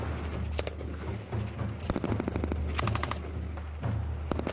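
An M249 machine gun chambered in 5.56 fires at a military range during weapons qualification, with several loud, rapid automatic bursts of sharp cracks and booming echoes between them.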